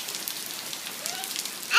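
Summer rain falls outdoors in August heat, a steady soft patter of drops on surfaces, faint and continuous, with no talk.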